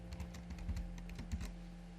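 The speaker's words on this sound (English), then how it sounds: "or I can start typing in" Quick, light keystrokes on a computer keyboard, a short irregular burst of a few clicks, close and quiet.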